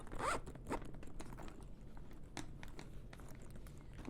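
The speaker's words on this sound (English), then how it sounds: "So we're going to zip it shut." A zipper on a sewn bag is zipped shut in a quick close rasp near the start, followed by quieter handling rustles and small clicks, with no talk.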